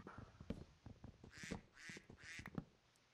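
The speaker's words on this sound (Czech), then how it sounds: "Tady kdákaj kachny." Ducks quacking in Minecraft, a run of three to four nasal quacks in quick succession, loud and close, over steady in-game background sounds.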